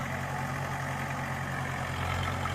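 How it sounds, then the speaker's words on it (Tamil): A farm tractor's engine runs at a steady low idle before ploughing. The hum is continuous and fairly faint, with no voices. "புதிய பாரதம் டிராக்டர் முதலாக உழவு செய்தல்."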